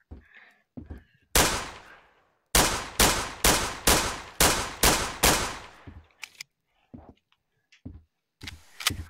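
Video game gunfire: a single loud shot, then a rapid run of about eight sharp, evenly spaced shots with short decays, near and dominant, followed by scattered faint clicks and quiet background sounds.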